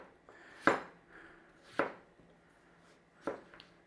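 Potatoes being sliced with a knife on a board, three separate crisp cuts spaced about a second apart, close and quiet with no talk.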